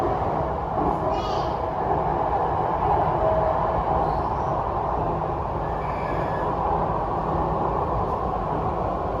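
Steady rumble and hum of a Jakarta MRT metro train running, constant and enclosed, with an onboard announcement voice heard over the noise.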